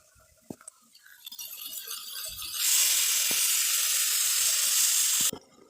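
Spices tipped onto onions frying with salt and turmeric for a Bengali pointed-gourd vine curry set up a loud, steady sizzle that swells abruptly and holds for several seconds, then cuts off, with a few earlier clinks beforehand.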